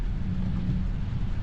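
Steady rain drumming on a Tesla during a drive in Houston on Full Self-Driving, a dense, continuous low rumble of water and road noise with no voices.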